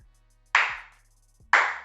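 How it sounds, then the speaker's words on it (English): Two slow, deliberate hand claps about a second apart, sharp and close, each ringing briefly into a near-silent room with a low steady hum beneath. "So, yeah, we're doing a slow clap."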